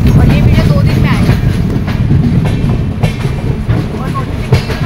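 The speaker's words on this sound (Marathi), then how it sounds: "ट्रेन सुरू झाली" Passenger train running from Shivajinagar toward Pune, a loud close rumble from inside the carriage with rhythmic wheel clatter over the rails and a few sharper knocks, steady throughout.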